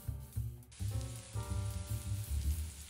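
Red chili flakes sizzle in hot oil in a skillet, a steady crackling fry with brief louder surges as they hit the oil.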